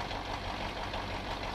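A truck engine idles in the Spintires off-road driving game, a steady, dense mechanical rumble with a faint knocking pulse and no voices.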